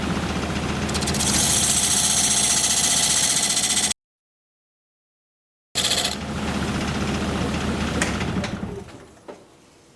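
A wood lathe turns a live edge rectangular bowl, with loud, dense whirring and cutting noise that runs continuously, breaks off in a short gap, resumes and then fades toward the end.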